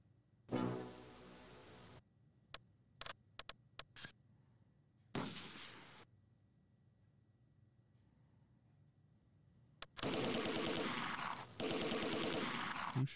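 Bursts of wartime gunfire in Close Combat 2, sharp clustered shots and a few longer rattling volleys separated by near silence, loud and close.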